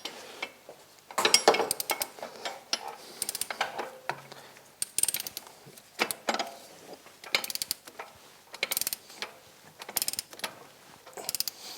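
Close, sharp metallic ratcheting clicks come in quick bursts as clutch bolts on a Polaris RZR with an SLP clutch kit are torqued to 96 foot-pounds, separated by short pauses and small clanks.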